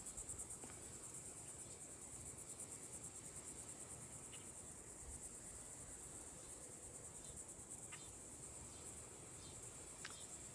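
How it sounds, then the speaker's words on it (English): Cicadas drone in a steady high-pitched buzz over a hot swamp, with occasional short bird chirps cutting through, all fairly faint and distant. "Listen to the birds and the cicadas going."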